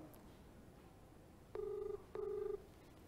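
A phone call's ringback tone sounds during a call to a police officer. Two regular electronic ring bursts come about half a second apart over a faint background hiss, and no one speaks.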